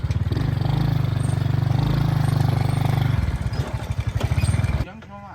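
A motorcycle being ridden, its engine droning steadily and close, then shifting to a choppier, pulsing rhythm before cutting off near the end. Voices may be mixed in.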